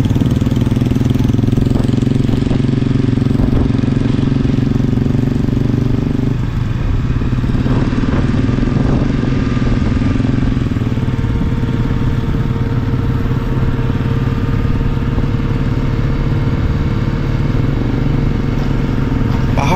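A motorcycle rides a mountain road toward Mangan in North Sikkim, its engine droning loudly and steadily with a shift in pitch partway through, along with wind rush and a voice talking over it.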